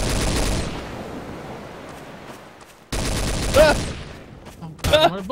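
Gunfire in the Trouble in Terrorist Town shooter game, with a sustained burst of shots followed after a gap by another loud volley, plus a few sharper cracks near the end.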